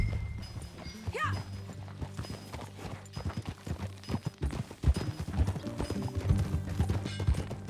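Horse hooves clip-clop at a steady riding pace in the Red Dead Redemption 2 video game, near and rhythmic, mixed with creaks, a brief whinny-like cry early on and low ambient tones.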